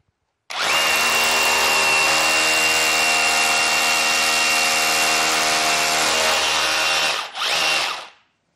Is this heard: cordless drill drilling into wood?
yes